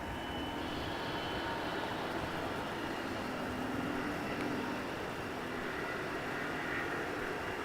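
A Singapore airliner rolls for departure on runway 34 at Melbourne Airport with a tailwind, a loud, steady, broad roar of jet engines filling the air without pause, no voices present.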